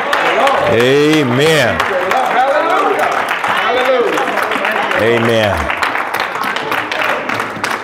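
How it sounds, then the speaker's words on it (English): A church congregation claps hands in praise during a Bible study, a dense wash of clapping under loud shouted amens and other voices. "give God a hand clap of praise"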